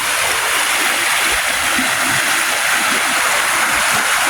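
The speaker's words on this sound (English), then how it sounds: "here's the creek where we were at" Steady broadband rush of creek water flowing over rocks, loud and continuous, with soft lower gurgles beneath and no voices.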